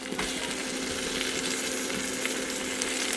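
Spices with turmeric frying and being stirred in a pan: a dense, steady sizzle at close range with a low continuous hum beneath, with faint occasional scrapes and no voices.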